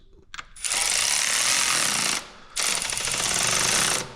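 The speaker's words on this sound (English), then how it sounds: "getting these snugged up with my electric ratchet" Electric ratchet tightening self-locking nuts during an Allis Chalmers tractor restoration, running in two long loud rattling bursts with a short pause between, close up and without talk.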